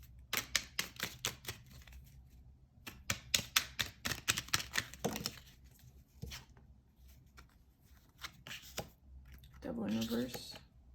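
Tarot cards are shuffled close up in quick, crisp riffling bursts that come in clusters with short pauses, followed by a softer rustle of cards near the end.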